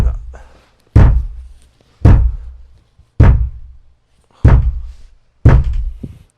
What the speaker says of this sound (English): Lee's missus must be getting sick of having to bang on the door for God knows how long.